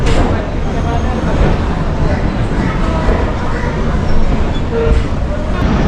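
A Sealdah–Kalyani Simanta local train departs, with a dense rumbling, rattling roar that stays loud and steady throughout. Someone talks over it.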